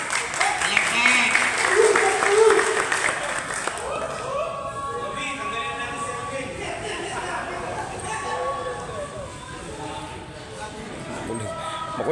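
A crowd gathered at a charity motorcycle ride in the Antipolo, Rizal countryside claps for a visiting riders' club, the applause strongest at the start and then fading beneath continuous talking.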